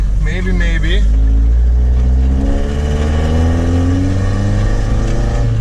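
A cheap Volvo's engine revs with its knock sensor unplugged, a loud, sustained mid-pitched drone that climbs and holds close by, with someone talking over it at the start.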